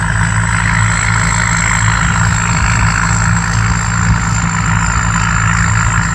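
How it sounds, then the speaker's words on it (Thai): Combine harvester in Thailand with an upgraded pump, its engine running in a field, producing a steady, loud, low rumbling drone that holds constant throughout with no speech. "เสียงเครื่องยนต์นี่"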